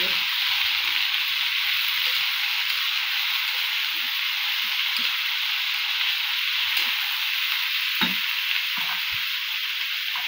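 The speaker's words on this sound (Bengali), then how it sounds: "লবণ দিয়ে হালকা করে নেড়ে দেবো।" Meat and potatoes fry with salt in a pan, a steady loud sizzle with occasional scraping stirs of a utensil against the pan.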